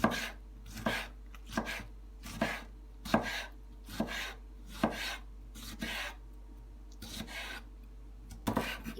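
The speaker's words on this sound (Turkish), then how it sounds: "Domatesimizi şöyle birkaç yerinden çizikler atıp küçük küçük doğrayalım." A knife chops tomatoes steadily on a cutting board, about a dozen crisp, evenly spaced strokes close by, with no talking.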